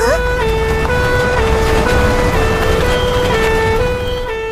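Cartoon fire engine siren arriving, loud and close, cycling steadily between two tones over a continuous engine rumble, holding strong throughout.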